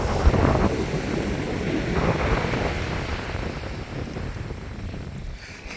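Choppy sea with steady wind buffeting the microphone, continuous broadband rush of waves and gusts close by, loud and unbroken with no talking.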